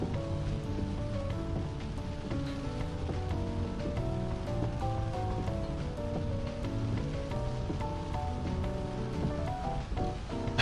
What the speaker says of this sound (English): The rain sounds make you sleepy.